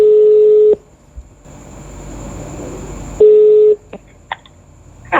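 Telephone tones on an outgoing call: a steady pure tone cuts off, a faint line hiss follows, the tone returns, then a few short clicks and beeps as the line connects.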